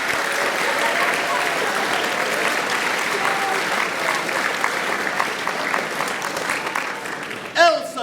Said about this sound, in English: we'll give a clap to J Social.